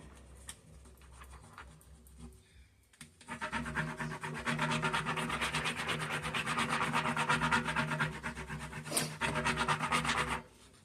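A fingernail rubs over a decor transfer in a steady, close scratchy friction lasting several seconds, with a quiet pause before it starts and soft handling noises around it.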